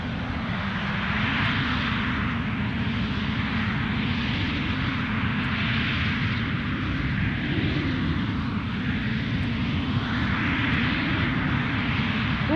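A Ryanair airliner taxis at Edinburgh Airport, its engines giving a steady, loud broadband roar and whine that holds evenly throughout with no talk over it.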